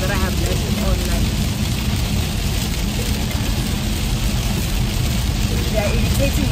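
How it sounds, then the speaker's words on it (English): Steady rain falling outdoors, a constant dense hiss with low rumbling underneath that holds at an even level throughout. "I doubt you guys can hear because it's raining"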